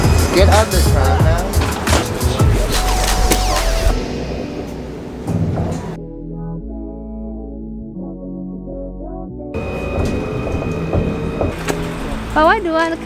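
Tram ride in Melbourne: rumbling wheels and motor hum with loud rattling, a quieter enclosed stretch in the middle, then the rolling noise returns with some voices talking.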